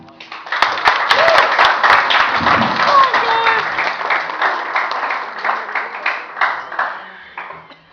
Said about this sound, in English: Everybody give a round of applause for Scott.